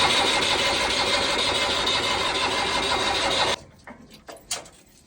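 A Mustang tractor engine being cranked after bleeding air from the rotary pump, a loud, continuous mechanical churning that cuts off abruptly, followed by a few faint clicks and knocks in near silence.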